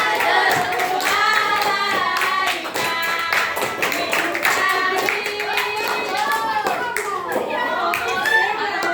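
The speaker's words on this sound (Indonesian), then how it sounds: "Ayo tepuk satu, tepuk dua, tepuk empat." Children clapping along in a classroom counting clap game, quick loud rhythmic claps mixed with children chanting and singing together throughout.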